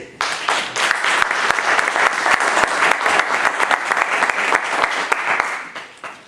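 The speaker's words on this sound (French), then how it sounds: "On peut acclamer." Sustained applause from a church congregation, dense and loud clapping with scattered sharp claps on top, holding steady for several seconds before tapering off at the end.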